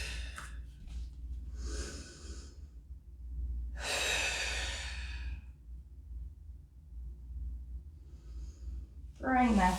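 A person exhales audibly in a gentle full-body mobility workout, with a few breathy puffs and a longer outbreath over a low steady hum, close and fairly soft.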